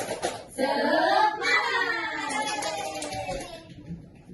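A class of third-grade children performs a rhythmic spirit clap in a classroom, hands clapping alongside a chanted group voice, fairly close and moderately loud, with the chant sliding and fading toward the end.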